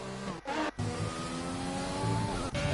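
Ferrari race car in a simulated F4 racing game on a USA circuit, its engine a loud, continuous high-revving drone broken by brief quick dips as gears shift, with the pitch climbing and holding through the corner.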